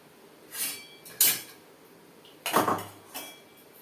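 A ladle is stirred through kunukku batter in a pan, making four short metallic scrapes and clanks with brief quiet gaps between them, heard close with no one speaking.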